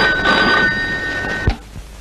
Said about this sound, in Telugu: మీకు ఫోన్ వచ్చింది